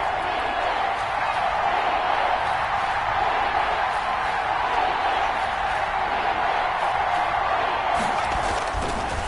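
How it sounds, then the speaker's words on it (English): Loud, steady roar of a packed college football stadium crowd during a Washington game, a continuous dense wash of cheering and noise with no break. "this crowd's going to get even louder"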